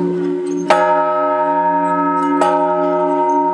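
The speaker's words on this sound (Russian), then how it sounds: "Со светлой радостью слушают звон первого колокола будущие прихожане" A newly consecrated church bell rings out for the first time, two strong strikes each leaving a long, steady humming resonance that carries on between them, loud and without voices.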